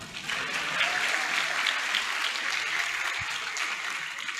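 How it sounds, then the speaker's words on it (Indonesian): Applause from an audience at an Islamic religious lecture, a steady dense wash of clapping held for several seconds at an even level with no talk over it. "mau tepuk tangan lah"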